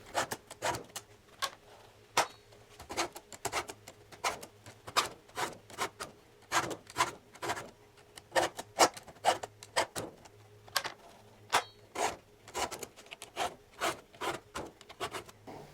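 A Stihl 2-in-1 sharpener files a chainsaw chain in steady, close rasping strokes, each a short scrape repeating in a quick, even rhythm with brief pauses between passes.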